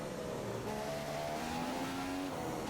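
A Formula 1 racing car in a video game at Singapore drives through a corner in first gear, its engine a steady droning whine with shifting tonal pitch, heard alone and fairly faint.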